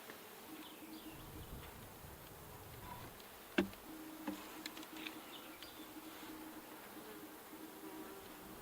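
Honeybees from a small remnant colony drone softly inside an opened horizontal beehive, a faint steady buzzing with a couple of brief clicks and bumps.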